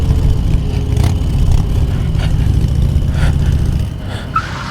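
Motorcycle engine approaching on a road, a loud steady engine drone holding for several seconds before easing off slightly at the end.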